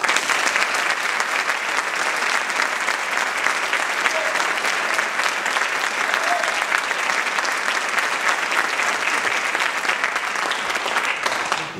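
Sustained, dense applause from a concert audience after a youth contemporary orchestra performance in Alicante, steady and loud for the whole stretch without a break.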